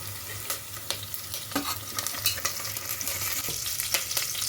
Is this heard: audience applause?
no